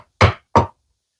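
Two sharp chisel chops strike into wood while cutting dovetails for a box, each a solid knock with a short decay, close and alone with silence after.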